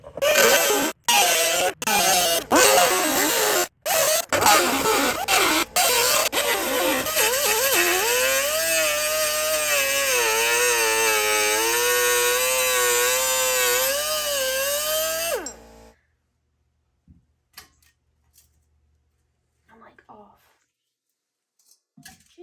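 A power tool cuts off a hub dust shield during a lift and coilover install. It runs loud and whining with pitch wobbling under load, is interrupted by brief gaps early on, then stops abruptly, followed by near silence with faint clicks.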